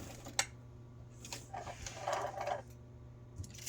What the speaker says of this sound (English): place it in my machine, and using about 1/8 of an inch of a seam allowance, we're going to stitch across